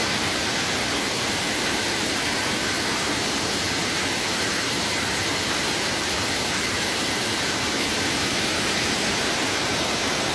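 A waterfall in Crato, in Ceará's Cariri region, gushes with heavy flow, a dense, loud, unbroken roar that holds steady from start to end.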